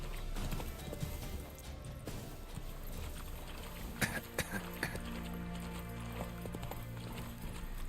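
Roach the horse in Witcher 3 clip-clops at a steady run, hoofbeats repeating throughout over a dense game soundscape, with a brief whinny-like accent midway.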